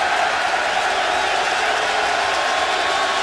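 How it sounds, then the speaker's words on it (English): A large football stadium crowd at a Titans at Jaguars NFL game rumbles and roars steadily on a third down, a loud, continuous wash of massed voices. "Crowd now reacting on a 3rd and 10 for the Titans."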